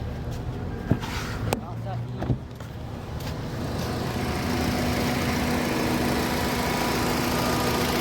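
A 2013 Hyundai Elantra engine idles with an uneven, slightly rough running note from a misfire in ignition coil number three, with a few sharp knocks early on, then settles into a steady hum.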